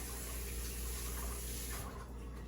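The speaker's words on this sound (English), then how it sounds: "let me rinse this spoon because it has dough on it" Tap water runs steadily over a spoon coated in pizza dough as it gets rinsed in the sink, a continuous broadband rush that cuts off near the end.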